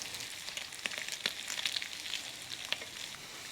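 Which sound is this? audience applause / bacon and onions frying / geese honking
bacon and onions frying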